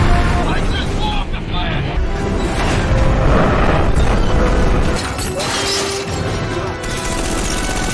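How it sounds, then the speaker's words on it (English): Bazooka fire and a shattering explosion in a military action movie scene, loud and dense, with crashing debris and heavy rumble running throughout under a steady wash of noise. "Pike also fires a bazooka to disrupt their plans"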